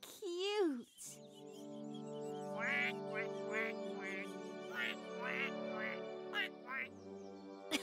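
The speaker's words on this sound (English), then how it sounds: "Look! The ducklings have hatched out!" Newly hatched ducklings in a cartoon quack in a quick run of short, high calls over a soft musical background, after a brief voice at the start.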